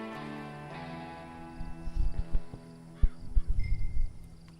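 Horse hooves from the video game Red Dead Redemption 2 clop in an uneven run of thuds that gets louder partway through, set over a steady bed of game music and ambience.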